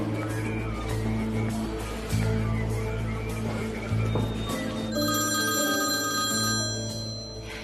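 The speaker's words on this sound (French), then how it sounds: "Allez, décroche, Fabry, décroche." A telephone rings repeatedly with a steady electronic ringtone over a continuous musical background, the ringing growing brighter and clearer in the second half.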